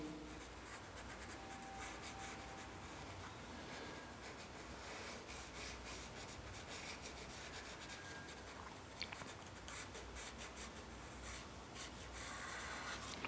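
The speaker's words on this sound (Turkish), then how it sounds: "şimdi bundan sonra şişkinliğini çiziyorum" Pencil scratching and rubbing across paper while shading the swell of a hand in an art-fundamentals drawing lesson, a continuous close, soft rasp with small strokes and no talk over it.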